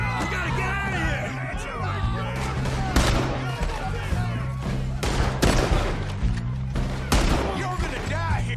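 Rapid gunfire crackles through a firefight in Red Dead Redemption 2, with several sharp shots bursting over a dense mix of shouting voices and tense background music.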